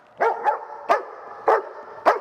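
A dog barks on command about five times in short, evenly spaced bursts, close and clear, with silence between barks.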